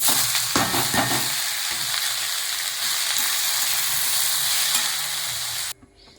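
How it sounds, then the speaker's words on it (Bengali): Leafy greens (shak) fry in a pan after onions have browned, giving a steady, close, loud sizzle with occasional stirring scrapes before cutting off abruptly near the end; no one speaks. "দেখুন এইদিকে শাক ভাজা হচ্ছে"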